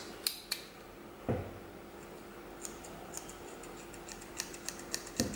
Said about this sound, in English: Sure, they're definitely scissors.